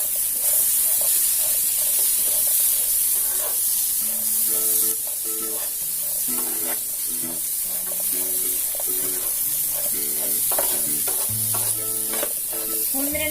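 Raw Kerala cherries being stirred into a sizzling spicy pickle masala in a hot pan, giving a steady frying hiss with scraping stirs throughout, under background music.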